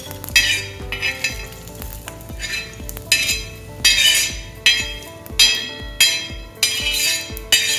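Onion and fresh grated coconut roast in oil on a tawa, with repeated bursts of loud sizzling as a spatula scrapes and stirs in an uneven rhythm, metal clinks marking each stroke.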